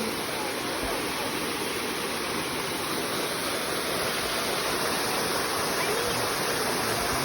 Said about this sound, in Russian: Я тут смотрю на фонтанчик.